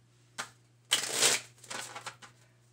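Cards being shuffled in a few quick riffling bursts, the longest in the middle, close and fairly quiet with brief pauses between.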